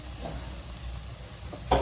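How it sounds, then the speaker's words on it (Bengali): Onions sizzling in oil for palak paneer, stirred with a spoon: a soft continuous frying hiss with faint scraping, ending in a louder clatter of the spoon against the pan. "এমনভাবেই কষা হবে যে পেঁয়াজটা চামচ দিলে একদম গলে যায়, যেন সেই সময় তেলটা ভালো উঠে আসে।"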